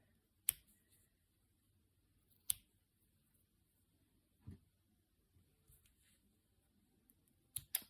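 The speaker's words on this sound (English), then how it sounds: "I'm just going to snip those." Scissors snip off the ends of weaving yarn on a handwoven short jacket, making a handful of sharp, isolated clicks spaced seconds apart, close and quiet, with soft handling noise between.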